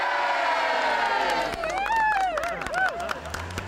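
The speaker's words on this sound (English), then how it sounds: "the starting town of Enniscorthy with a huge crowd lining the route" A huge crowd lines the road at the Tour de France start in Enniscorthy, Ireland, roaring and cheering continuously, with whistles and shouts rising over the steady din.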